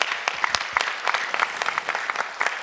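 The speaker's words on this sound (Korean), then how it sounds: "박수로 한번 격려해 주시기 바랍니다" Church congregation clapping to encourage the praise team, a burst of scattered hand claps that are close and crisp, moderately loud, over a few seconds.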